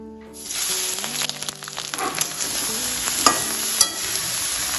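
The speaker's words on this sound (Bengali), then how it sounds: "তেলটা বেশ গরম হয়ে গেছে, এখন আমি বেগুনের টুকরোগুলো দিয়ে দেব তেলে।" Eggplant pieces dropped into hot mustard oil, bursting into a loud, steady sizzle that fills the pan for several seconds, with a few sharp stirring clanks near the end.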